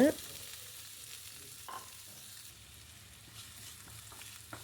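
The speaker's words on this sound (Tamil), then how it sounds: "அதே பேனில் ஆயில் சேர்த்துட்டு ஆயில் நல்லா ஹீட் ஆனதுக்கப்புறம் கடுகு, வெங்காயம் சேர்த்துக்கோங்க." Mustard seeds and onion fry in hot oil in a pan, a soft, steady sizzle that stays quiet and even, with a brief clatter at the start.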